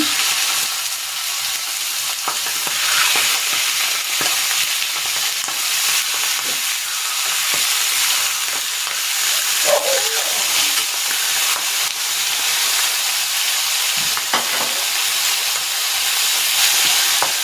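Chicken pieces frying in a little cooking oil in a preheated pan, giving a steady loud sizzle and hiss throughout with occasional crackles and pops, and no talking.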